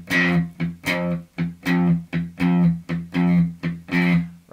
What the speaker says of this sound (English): hit little dead notes in between little ghost notes